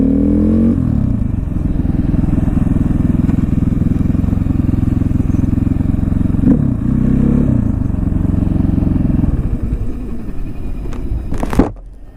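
A 2014 KTM 450 XC-W dirt bike set up as a supermoto, its single-cylinder engine idling steadily at close range with a loud continuous chug and a brief clatter near the end.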